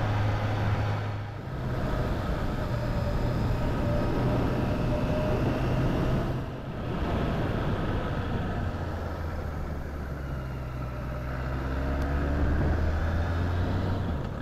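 An engine hums steadily close by, briefly dips, then swells and climbs in pitch as the throttle opens, with a continuous droning tone and no voices.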